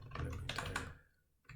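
Rapid clicking of keys on a computer keyboard, a short close burst of typing that trails off before one final tap.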